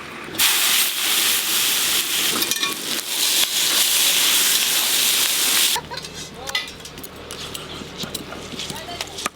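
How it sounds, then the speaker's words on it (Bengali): Half-fried onions poured into a large wok of hot mustard oil for chicken curry, setting off a loud burst of hissing sizzle that drops suddenly to quieter frying with faint clatter. "পেঁয়াজগুলো অর্ধেক ভাজা ভাজা হয়েছে, বড় কড়াতে ঢেলে দেবো।"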